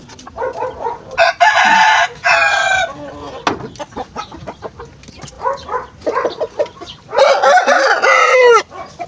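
Pet chickens cluck in close, irregular bursts while a rooster crows loudly twice, once near the start and again near the end, with quieter clucks and rustling in between.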